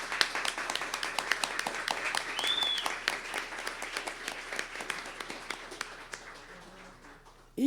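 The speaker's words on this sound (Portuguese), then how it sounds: "palmas para os nossos agentes de Cultura Viva" Audience clapping at the opening session of a national cultural network gathering, a sustained patter of many hands at moderate distance that thins toward the end, followed by a brief louder burst.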